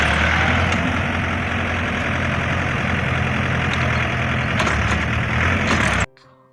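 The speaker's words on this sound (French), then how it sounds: "Donc aujourd'hui, vous voyez, le tracteur est en activité." A farm tractor engine runs close by in a loud, steady, rumbling drone on a farm where weeding implements are being tested. It holds at an even level for six seconds, then cuts off abruptly.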